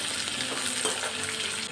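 Thickly sliced onions, four of them, fry in hot oil with garlic, making a dense, continuous close sizzle with faint stirring underneath.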